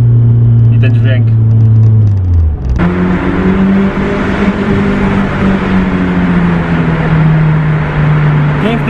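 A BMW M3 E30 engine idles with a deep steady rumble, then revs up sharply and settles into a loud, sustained throaty drone close by.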